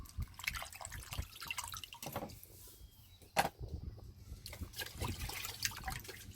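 A razor clam is rinsed under a running tap, with faint, irregular splashing, drips and trickling water, plus a sharper splash partway through.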